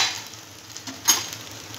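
Onion-garlic masala with red chilli powder, turmeric and coriander powder frying in oil, giving a steady close sizzle with a few soft stirring scrapes and a brief louder clatter midway, no talking.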